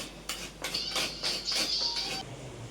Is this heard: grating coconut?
yes